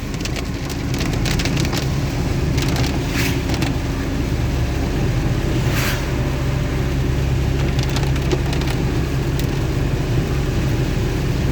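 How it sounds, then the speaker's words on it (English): Heavy, much-needed rain pours down steadily in Wisconsin, a dense continuous hiss with occasional sharper patters and splashes, loud and unbroken with no voices. "Much needed rain."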